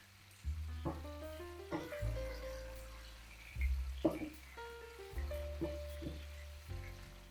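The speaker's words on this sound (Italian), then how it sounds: "Facciamo friggere su fiamma bella viva in una padella scoperta per circa 10 minuti" Bell peppers frying for a peperonata in an uncovered pan over high heat, with a steady close sizzle broken by several louder bursts as the pieces are stirred and turned; no talk.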